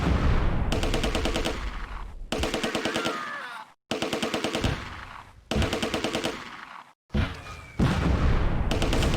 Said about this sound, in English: But now the mortars are firing at you.